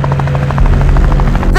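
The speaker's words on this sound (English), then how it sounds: "It sounds like a helicopter." A helicopter approaches in a LEGO Ninjago animated film, a loud, close, rapid rotor thumping that holds steady and swells slightly near the end.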